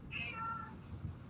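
A cat gives a single short, high meow near the start, fairly faint and fading quickly against low background murmur.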